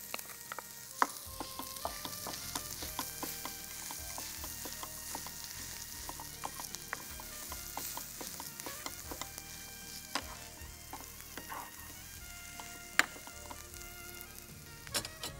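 Boiled, mashed potatoes fry and get stirred in a pan with a steady, close sizzle and a dense patter of small crackles and spatters, plus occasional sharper pops, throughout with no voices.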